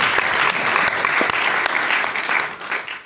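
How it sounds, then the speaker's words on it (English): A live audience at a developer conference gives the MC a round of applause, with dense, steady clapping throughout that fades slightly toward the end. "He hasn't had a round of applause yet."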